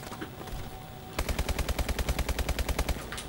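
An in-game clothespin gun fires a rapid burst of about fifteen evenly spaced, punchy shots, loud and close, after a stretch of quieter background ambience, with no talking over it.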